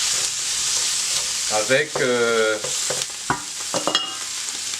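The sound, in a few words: smoked pork (boucané) frying in a pan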